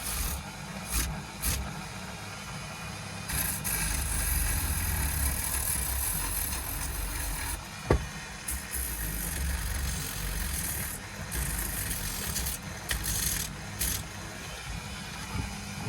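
A 1 inch sanding disc grinds against a surface with a continuous, moderately loud rasping whir under low rumble, broken by a few short bursts and one sharp tick partway through.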